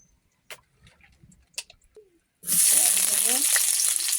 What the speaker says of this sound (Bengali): তেল দেবো কড়াইতে